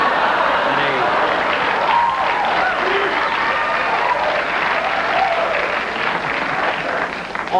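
Sustained audience applause from a television studio crowd, a dense, steady wash of many hands clapping that holds loud and close for several seconds before easing slightly at the end.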